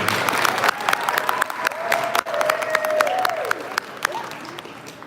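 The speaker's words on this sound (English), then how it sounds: "Please give him a round of applause." An audience at an elementary school gathering claps warmly, a dense steady patter of applause that lasts several seconds and slowly thins, with a voice speaking faintly underneath.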